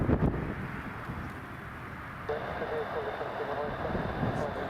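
An Embraer 170 jet taking off from Newcastle Airport gives a distant engine roar that swells slightly midway, with wind buffeting the microphone and a voice faintly in the background.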